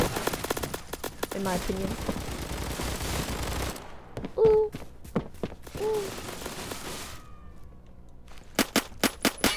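Rapid gunfire and bursts of shots in the Roblox shooter Phantom Forces, loud and close, with sharp single shots near the end, mixed with a player talking over the action.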